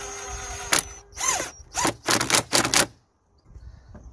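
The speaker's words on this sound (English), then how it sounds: "Seven mil socket to secure this jubilee clamp." A 7 mm socket tightens a jubilee clamp on the turbo inlet pipe of an Audi A4, several short ratcheting zips in quick bursts with brief pauses, close and clear, with no talk.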